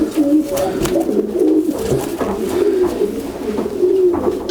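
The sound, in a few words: racing pigeon cooing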